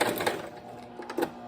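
A sewing machine zigzag stitches across a ribbon in short bursts of rapid mechanical chatter, close and moderately loud, with no talk.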